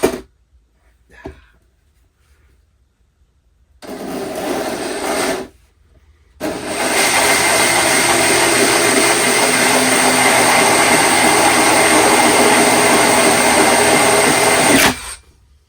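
A power tool whines steadily as it cuts sound holes out of an acoustic guitar body, a short burst followed by a long sustained run of loud, even machining noise, with quiet pauses between and no speech.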